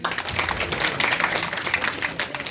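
An audience applauds guests at a Savitribai Phule birth anniversary event in Rajasthan, a dense, steady patter of many hands clapping at moderate volume throughout.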